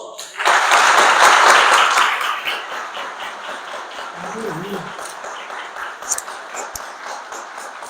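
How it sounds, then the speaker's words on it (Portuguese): A church congregation at a Quadrangular couples' event in Uberaba breaks into a loud burst of clapping that swells quickly, then thins out and fades over several seconds as voices carry on beneath it. "Jesus merece um aplauso?"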